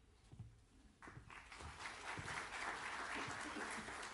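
Audience applause at an admitted student day on a college campus, starting as scattered claps and swelling after a second into steady, full-room clapping that holds to the end.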